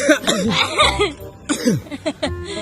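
A person coughs in a few short harsh bursts, close by, mixed with voiced breathy sounds that verge on laughter.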